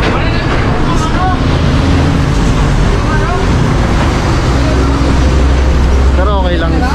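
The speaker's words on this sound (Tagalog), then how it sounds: "Ang dami kasing truck dito eh." Loud, constant roar of heavy truck traffic with rumbling engines passing close, and voices talking over the noise.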